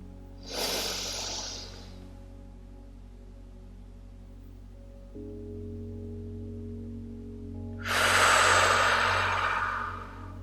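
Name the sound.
deep breath in through nose, out through mouth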